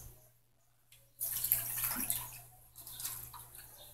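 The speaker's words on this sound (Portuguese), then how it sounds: "Vou colocar aqui 3 copos de água." Water is poured from a cup into a container to dissolve lye for homemade strawberry soap, a soft splashing stream starting after a quiet moment and running steadily, close by and moderately loud.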